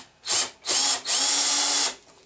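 A power drill bores a pilot hole through wood in three loud, close bursts: two short whirring spurts, then one longer steady run before it winds down.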